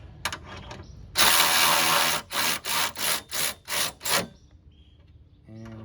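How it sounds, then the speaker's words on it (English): Ratchet wrench tightening bolts that hold a GM minivan radiator to the core support: one long zipping burst followed by five short, evenly spaced ratcheting bursts, close and loud, with no talking. "And then we tighten these down."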